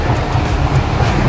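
A train runs on its rails, with a loud, steady rumble and faint rhythmic clatter from the wheels throughout.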